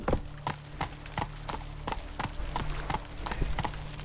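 Hooves of the horse Roach in The Witcher 3, a steady galloping clip-clop of about three beats per second, close and clear over a low background drone.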